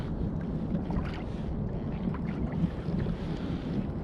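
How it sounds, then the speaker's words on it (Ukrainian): Steady wind at the Zhuravlivka hydropark in Kharkiv buffets the microphone with a low rumbling roar, rising and falling in gusts, over faint sounds of small waves outdoors. "Погода вітряна, хвильку жене"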